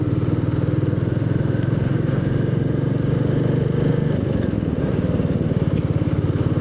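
A Royal Enfield Meteor 350 cruises along the East Coast Road in the evening, its engine holding a steady, loud, low drone with a fine rhythmic throb and wind rush, close to the rider, with no voices.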